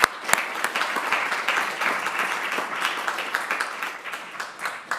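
Conference audience applauding at a catastrophic-risk conference, steady dense clapping from a room full of people, fairly close and continuous throughout without talk.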